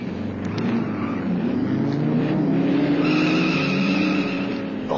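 A racing car roars along a track in a French comedy film, its engine droning loud and steady with squealing tires layered over it and no dialogue.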